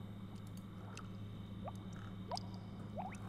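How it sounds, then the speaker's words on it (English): Faint, sparse dripping from an object in the video game The Sims 2, a few soft watery plinks rising in pitch over a steady low background hum. "I think this just makes a dripping sound"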